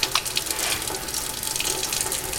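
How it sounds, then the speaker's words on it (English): A sink tap runs hot water for handwashing, a steady close hiss and splash of flowing water that stays even and unbroken from start to finish. "you want to make sure that you turn on the sink with hot water"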